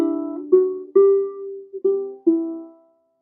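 A ukulele plays a chord melody, five clear plucked strums spaced about half a second apart, each ringing and decaying, close and alone.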